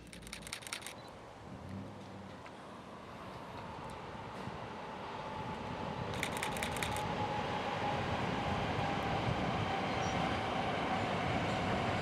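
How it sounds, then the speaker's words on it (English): A train rumbles steadily along the banks of the Hudson River, its low roar building gradually and holding, with a faint high whine and a couple of brief clicking bursts from a camera shutter. "trains hug the banks of the Hudson River as they head towards Croton and Poughkeepsie"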